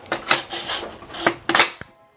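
The charging handle of an Aero Precision .308 rifle pulled back by hand, a few short scraping, rasping metal strokes in quick succession, close and loud, ending in a brief click before silence.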